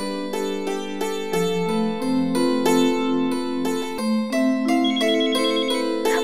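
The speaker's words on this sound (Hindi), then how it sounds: "साथी का फोन है।" A mobile phone rings with an incoming call, a bright melodic ringtone of quick repeated tones stepping up and down in pitch, loud and close, playing alone without any talk.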